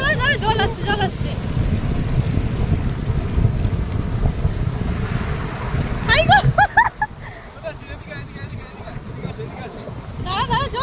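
Sea waves wash in at Puri beach, a broad rushing surge under blustery wind, with excited voices talking over it and a quieter lull after the wave passes.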